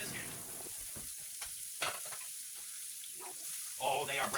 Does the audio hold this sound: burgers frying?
yes